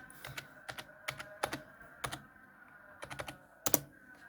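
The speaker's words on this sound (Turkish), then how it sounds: "şifremi yazıyorum" A password typed on the keyboard of a new Asus computer, a close run of crisp key clicks in short uneven bursts with brief pauses between groups, nobody speaking.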